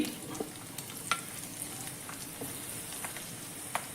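Garlic and ginger hiss and crackle in hot oil with fenugreek seeds in a pan while making karimeen (pearl spot fish) mappas, a steady faint sizzle broken by a few sharper pops and clicks.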